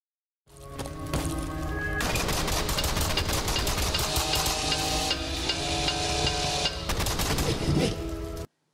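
Rapid automatic gunfire from the video game Decaying Winter, dense and continuous bursts lasting several seconds with a brief pause partway, loud and close with no talk over it.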